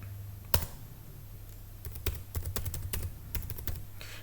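Someone types a command on a computer keyboard at an Ubuntu terminal. The key clicks are close and quiet, in short irregular bursts with brief pauses in between.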